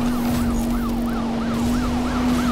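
Loud, close police car siren in the Need for Speed Rivals racing game, a steady rising-and-falling wail repeating about every third of a second over a constant droning engine tone.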